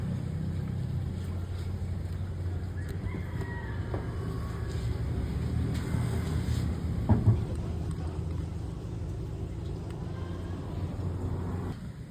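A Hicon commercial ice machine runs its cleaning cycle with a steady low mechanical hum and faint water churning, broken by a brief clunk partway through, heard alone at close range.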